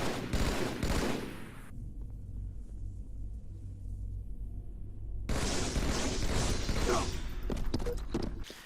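Gunfire in the video game Halo 2, a dense burst of shots and booming impacts at the start and again in the last few seconds, with a quieter low rumble between the bursts.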